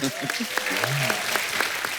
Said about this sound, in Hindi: जोरदार ताली प्रोमो के लिए